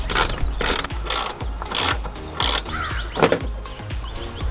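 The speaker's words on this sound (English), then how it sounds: "our bumper is only held in by these two 10 millimeter bolts. So let's very carefully start to remove them." A hand ratchet loosens 10 mm rear bumper bolts on a BMW F30, giving a fast, rhythmic train of loud, close metallic clicks in repeated bursts.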